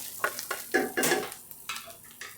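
Onions sautéing in a pan for a bitter melon (ampalaya) dish, stirred in a series of distinct scraping strokes over a soft sizzle, close and clear, with no talking.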